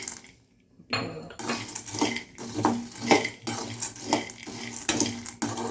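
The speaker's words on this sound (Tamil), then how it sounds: "ஒருக்கா கொட்டி வறுத்துக்கலாம்" Ingredients for drumstick laddu dry roasting in a pan, heard as steady scraping and clinking of a utensil against the metal pan in repeated strokes, close and fairly loud after a brief quiet start.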